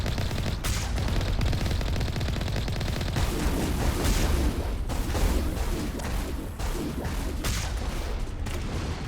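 Gunfire aimed at an enemy dropship during a Mass Effect outpost fight, dense rattling bursts of shots mixed with booming impacts, loud and sustained for several seconds with no pause.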